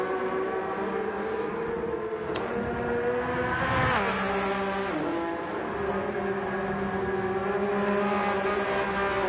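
Race car engines in Gran Turismo at the Nürburgring in a GT2-class race, a continuous high revving drone with shifting pitch, a sharp burst and a dip mid-run as cars slide sideways through corners.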